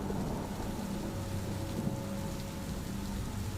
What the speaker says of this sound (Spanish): Empezó a llover, y no ha dejado desde entonces.